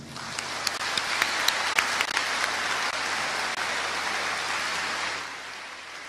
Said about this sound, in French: à nous de lui témoigner notre reconnaissance par ce concert d'applaudissements